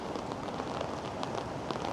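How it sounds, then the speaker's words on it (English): Heavy rain with big drops pelts a city street, a dense, steady wash of close, crackling patter lasting throughout, with no voices. "Oh, the rain's picking up again."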